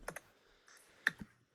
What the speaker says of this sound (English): Oh, he's typing it in, folks.